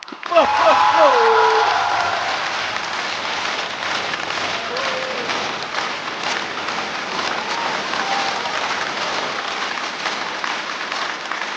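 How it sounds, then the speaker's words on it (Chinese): A stand-up comedy audience applauds in a theatre as a performer is welcomed on stage, with a dense, steady clapping that peaks early and then holds, plus a few brief cheers at the start. "掌声欢迎呼啦！"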